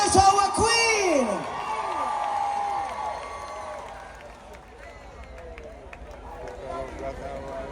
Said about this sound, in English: Make some noise for our queen.